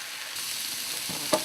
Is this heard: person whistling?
no